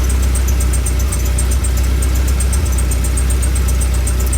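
A car engine idles steadily while its alternator carries the extra load of an automotive inverter running a 72V e-bike charger at 1 amp, a continuous even hum with no voices.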